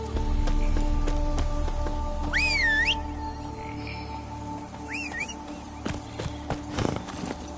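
A horse ridden in The Witcher 3 video game, with rhythmic hoof clip-clops at a steady pace, the loudest early on, then two short whinnies and a few scattered heavier thuds.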